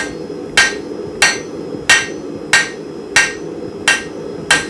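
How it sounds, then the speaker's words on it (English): Hammer striking hot steel on an anvil while forging a square nail, seven sharp ringing blows at a steady, evenly spaced rhythm, close and loud with nothing else over them. "This is aggressive forging."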